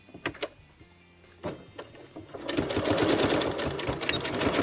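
Sewing machine stitching over the cut edge of a shortened sweater sleeve, starting after a few soft taps and clicks, then running steadily and loudly in a fast, dense rattle for the last two seconds.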